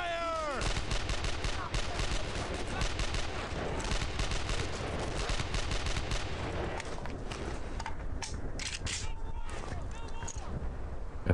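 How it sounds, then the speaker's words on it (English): Gunfire in the Brothers in Arms: Earned in Blood video game, dense rapid bursts of rifle and machine-gun shots crackling continuously, with shouted voices in between. "Suppressing fire!"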